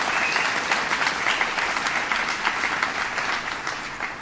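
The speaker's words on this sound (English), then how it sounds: "Let's give her a round of applause for her great leadership." Warm audience applause in a hall at a governor's event, dense sustained clapping from a large crowd, steady and fairly loud, tapering slightly toward the end.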